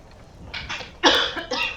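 Three or four short, harsh coughs in quick succession, close to the microphone, with no talking.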